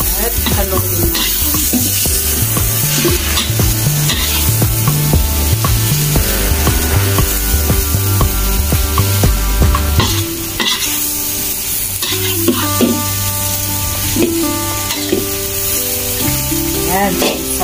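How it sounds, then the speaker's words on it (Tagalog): Vegetables frying in a pan for bihon noodles while being stirred, a loud close sizzle with repeated scraping strokes of the spatula against the pan and music playing underneath. "ibalik na natin itong ating gulay. At haluin natin."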